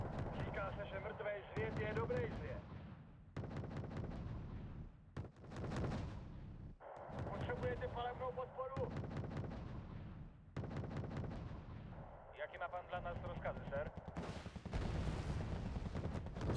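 Mortar artillery fire in a video game sounds as a series of heavy booming blasts in bursts, loud and close, with talk running between and over them.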